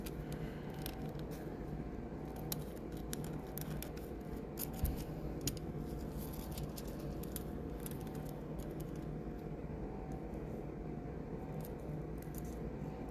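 Scissors snip out a small butterfly shape meant as nail art for a bling stiletto gel nail, the quiet cuts close by over a steady low background hum with no talking.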